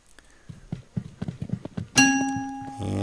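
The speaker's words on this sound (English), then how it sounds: "I should remind myself to disable that bell" A notification bell in the FreeCiv 2.4.0 game client rings out loud and sustained with a bright, ringing tone, following a run of soft, irregular taps.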